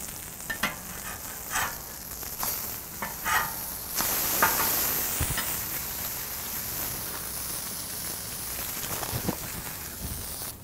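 Plant-based burger patties sear on a hot surface, a continuous crackling sizzle throughout with occasional scraping and pressing sounds from a spatula, no talking.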